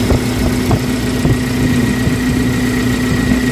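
A 2012 Suzuki Carry 1.5 pickup engine with a clean, dry block idles smoothly and steadily, a close, even low hum with a faint mechanical buzz and no voices.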